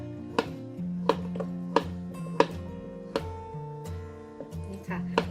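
A knife slices through steamed bananas on a cutting board with about eight crisp, evenly spaced chops, close and clear, while someone talks softly throughout.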